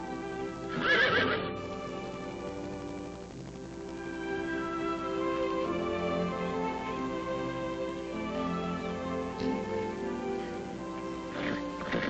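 A stallion gives a loud, shrill neigh near the start, then snorts and whinnies on and off, with hooves shifting and clopping over a steady background.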